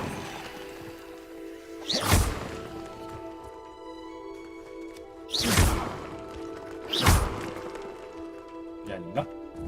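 Confringo spell blasts go off in the video game Hogwarts Legacy as three separate loud whooshing impacts a few seconds apart, heard over steady background game music.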